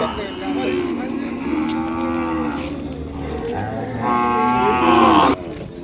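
Calves moo repeatedly at the Kodad cattle market, long harmonic calls rising in overlapping bursts, fairly close, with the loudest bawl near the end over a busy market background.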